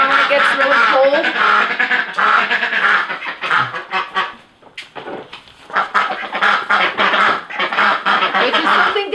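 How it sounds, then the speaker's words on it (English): A brood of ducklings quacks and peeps loudly and continuously at bedtime in their duck house, close by with only a brief lull, as people talk over them. "Duckies are still rowdy tonight."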